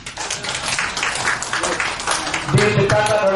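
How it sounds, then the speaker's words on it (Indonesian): Applause from an audience at a concert of an Indonesia–Malaysia friendship song, a dense wash of clapping that swells slightly toward the end, with a voice and some music coming in beneath. "Tepuk tangan."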